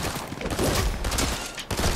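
Rapid bursts of gunfire crackle in an online shooter match, a dense, somewhat distant volley that rises and falls across two seconds with no talking.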